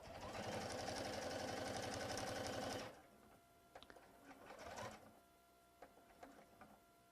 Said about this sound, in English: let the feed dogs of the machine do their work